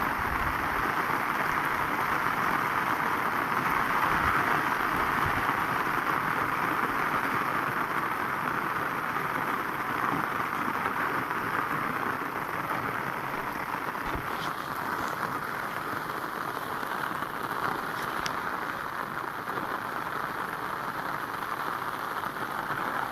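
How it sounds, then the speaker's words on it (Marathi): Steady rain pours down on a fenugreek field during harvest, a dense continuous hiss that stays loud and unbroken throughout, with no voices over it. "पावणे नऊलाच पाऊस सुरू झाला आहे"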